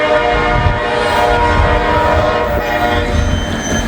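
CSX freight train rolling past a grade crossing, loud and close, with a continuous rumble of wheels and cars and a sustained horn throughout.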